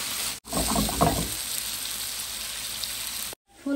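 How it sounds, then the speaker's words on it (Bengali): Cauliflower and potatoes fry lightly in oil in a pan with a continuous close hiss and crackle that cuts out briefly twice. "ফুলকপি আলু একটু হালকা ভেজে নিব।"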